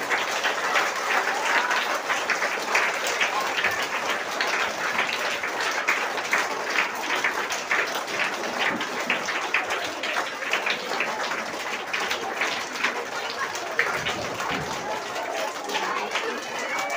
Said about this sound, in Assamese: হাত চাপৰি বাজি থাকিব লাগে।